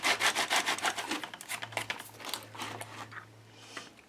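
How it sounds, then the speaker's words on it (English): Sandpaper rubbed lightly over a crafted building piece, steady back-and-forth scratchy strokes, brisk at first then slower and softer, close and fairly quiet, with no talking. "Bring in my sandpaper."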